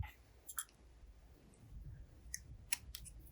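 Thread is snipped on a custom fishing rod build, heard as a few faint, sharp scissor clicks scattered over a quiet background hum.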